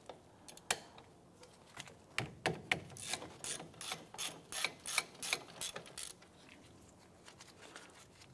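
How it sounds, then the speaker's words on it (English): A ratchet with a 13 mm socket loosening brake caliper bolts on a 2005-2007 Ford Five Hundred, a series of sharp clicking strokes in an uneven rhythm, close but fairly quiet, then stopping. "Use your ratchet and a 13 millimeter socket. We're gonna loosen and remove the two caliper bolts."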